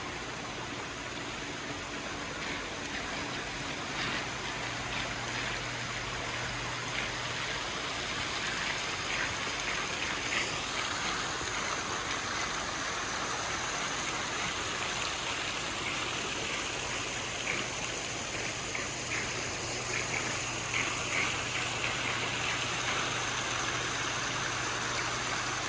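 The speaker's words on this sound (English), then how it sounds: "See if I can't get a picture of underneath the waterfall." Backyard pool waterfall pouring and splashing steadily, a continuous dense wash of water noise at close range, with no talk over it.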